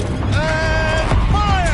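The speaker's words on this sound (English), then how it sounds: "Rotate turret!" Mechanical turret in the video game Horizon Zero Dawn rotating, a loud grinding whir with creaking, rising and falling tonal whines over a steady low rumble, heard under a game soundtrack.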